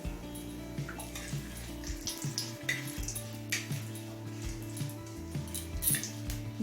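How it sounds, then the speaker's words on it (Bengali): Whole cumin seeds and a bay leaf fry in hot mustard oil, giving a soft, continuous sizzle with light popping, quiet and steady, over a faint tonal background. "জিরে আর তেজপাতাটা লাল করে ভেজে নিলাম"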